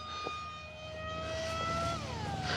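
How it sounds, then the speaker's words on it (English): An FMS Flash 850mm RC jet plane flies past at speed, its ducted fan whine holding steady and then dropping in pitch as it goes away, loud and continuous. "You can hear how fast you're going by the pitch of the throttle."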